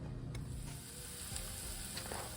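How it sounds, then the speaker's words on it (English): Celery and onions sauté in a pan for a holiday dinner, giving a steady, close sizzle with a few soft stirring scrapes and no talking. "cut this celery up into tiny little pieces of celery and put in here to saute with the onions"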